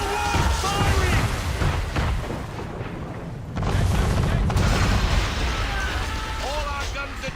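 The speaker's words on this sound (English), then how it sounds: "Man of war firing!" Heavy cannon volleys from a man-of-war warship in a naval battle in Assassin's Creed 3, deep booming blasts rolling over layered battle noise and shouting voices, with a loud surge midway.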